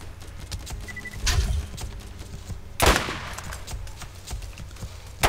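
Gunfire from a weapon in the video game Borderlands: a few sharp shots, one at about 1.3 seconds and a louder blast near 2.8 seconds, with fainter pops between, heard close over steady game background noise.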